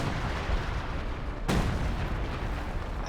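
Artillery fire in the video game Company of Heroes 2: one sharp, loud boom cuts through a dense, rumbling battlefield din, with a short rolling tail after it.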